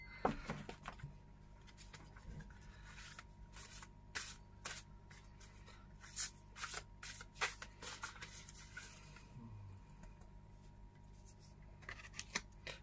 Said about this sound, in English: start shuffling the cards